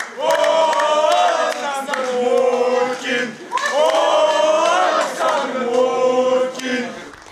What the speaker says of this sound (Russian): В зале прилета футбольные фанаты искупали в овациях футболистов и даже сочинили кричалку